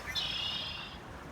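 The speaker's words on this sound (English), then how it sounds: "Red-winged blackbird flying by." A red-winged blackbird calls outdoors near a spillway on a morning walk, giving one faint, buzzy trill that fades over about a second against quiet background noise.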